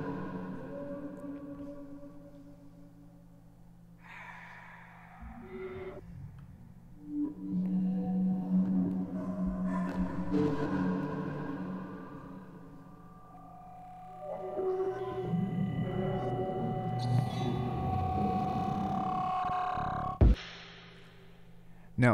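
Experimental resampled bass texture for a neuro bass track intro, made in Phase Plant and Bitwig: layered droning tones with shifting harmonic swells, building louder in two long waves before a sudden cutoff near the end.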